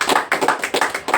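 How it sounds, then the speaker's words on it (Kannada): A brief patter of hand clapping from an audience at a farmers' association meeting on irrigation, about five quick, even bursts close by, with no talking over it. "ನಿಮ್ಮೆಲ್ಲರ ಒಂದು ಜೋರಾದ ಚಪ್ಪಾಳೆ"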